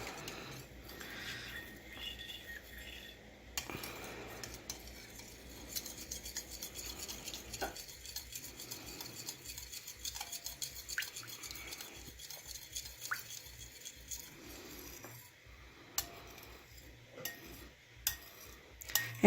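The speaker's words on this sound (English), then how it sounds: "we're just going to try to mix this all together." Homemade all-natural pain salve being stirred and mixed in a container, a steady run of scraping, rasping and clinking strokes with short pauses, close and fairly quiet, no talking.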